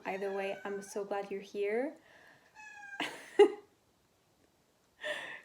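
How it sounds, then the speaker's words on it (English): A pet cat meows indoors, a short close call between and after bits of a woman's speech. "That is my cat."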